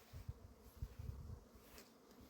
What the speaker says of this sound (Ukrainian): бачите, бджоли в роботі